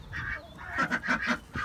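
Backyard ducks honk and quack in a quick run of loud, close calls, clustered in bursts with short pauses between, outdoors with no talk over them.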